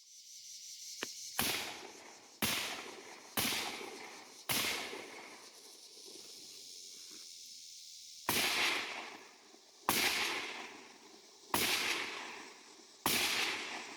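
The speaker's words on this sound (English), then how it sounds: "we're going to let him do some shooting and see how this thing works" Rifle fitted with a BCA 7.5-inch MLOK AR upper fired outdoors, eight sharp loud cracks spaced about one to two seconds apart, each followed by a short ringing decay, with no talk.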